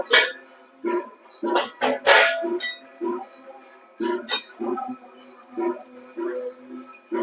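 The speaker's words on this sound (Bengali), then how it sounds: "এবার আমি ঢাকনাটা খুলে একটু দেখব" A lid lifts off a pot of mutton curry cooking on the stove, a few scattered metallic clinks and clatters coming close and moderately loud, with kitchen handling noises in between.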